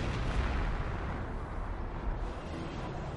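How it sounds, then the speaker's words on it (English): On-map artillery barrages in a real-time strategy game match, a steady low rumbling of distant booms and blasts rolling on continuously for a few seconds, fairly quiet, with no talk. "Looks like the on-map artillery for Jim has killed a pack"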